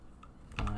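A short burst of typing on a computer keyboard while entering an MD5 sum terminal command: a few quick, close keystrokes, with a slightly louder cluster of clicks near the end.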